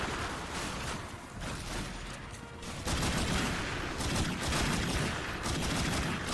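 Rapid gunfire in The Darkness II co-op Vendetta mode, with dense bursts of shots and booms layered close and loud, continuing without pause and growing heavier partway through.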